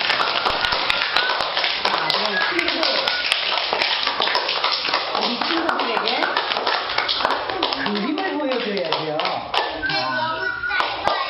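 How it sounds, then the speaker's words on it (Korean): A group of children clapping together for a storytelling grandmother in a classroom, a dense sustained burst of many hands that fades near the end as a voice rises over it. "이야기 할머니에게 박수 한번 쳐주세요."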